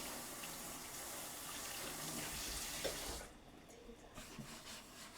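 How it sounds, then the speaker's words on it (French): Tap water runs steadily while a table is rinsed during cocktail preparation, a close continuous gushing hiss that cuts off after about three seconds, leaving faint clatter. "je rince ma table"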